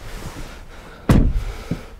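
A single solid thump of a Ford Tourneo Custom van door shutting, close and fairly loud, with a softer knock shortly after against a quiet outdoor background.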